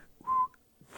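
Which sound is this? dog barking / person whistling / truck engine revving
person whistling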